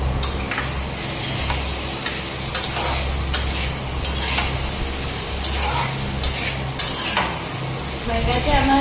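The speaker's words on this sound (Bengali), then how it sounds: "মশলার সঙ্গে ভেজে নেবো।" Cauliflower and potato frying with spices in a pan, a continuous sizzle with repeated scraping stir strokes and light clinks of utensil against the pan, close and steady.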